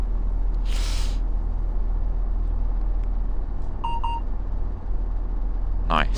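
Warning beeps sound inside the cab of a Cross Country Class 170 diesel multiple unit, a brief pair of pips over the loud, steady engine rumble and cab noise.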